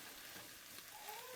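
Beef for ropa vieja sizzles steadily in a pan, with a faint scrape of stirring, soft and continuous with no voices.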